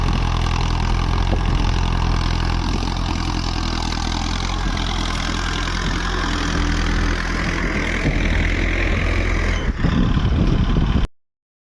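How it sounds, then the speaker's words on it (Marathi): A tractor ploughing furrows in a field drones steadily at close range, a loud continuous low rumble that swells briefly near the end before cutting off abruptly. "अशी ट्रॅक्टरनं सरी काढायला चालू आहे."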